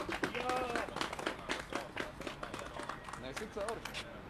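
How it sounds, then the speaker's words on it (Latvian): Audience applause at a public meeting, a loose patter of many hands clapping at moderate distance, mixed with crowd murmur and voices talking over it. "Te arī vieta aplausiem."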